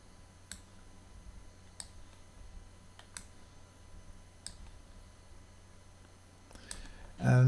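A computer mouse clicks in software, a few isolated, faint, crisp clicks spaced seconds apart over quiet room tone, ending with a louder burst of noise.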